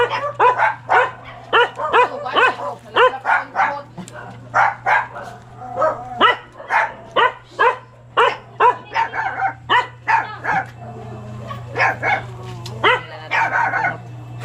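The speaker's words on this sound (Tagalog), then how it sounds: "Ang daming aso." Several dogs bark repeatedly in rapid, loud bursts close by, with yips and a brief whimper mixed in over a steady low hum.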